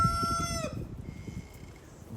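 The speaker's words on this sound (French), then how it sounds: "Donc voilà pour les Brahma perdrix maillés dorés, un coq et 4 poules." A gold partridge-laced Brahma rooster crows loudly and close by, the call breaking off partway through, followed by low clucking and farmyard murmur from the hens.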